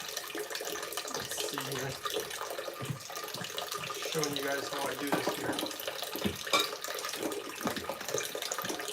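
Carbon filtered water pours and splashes into a container with a steady running-water rush, while someone talks over it.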